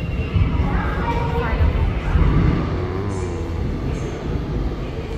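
A subway train rumbles and hums steadily nearby, with faint voices talking underneath the rolling noise.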